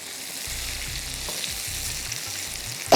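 Chicken manchurian sizzles steadily in a frying pan while a spatula stirs and scrapes it in soft, repeated low strokes, ending in a sharper clatter; no talking.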